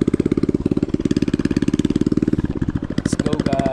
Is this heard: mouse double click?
no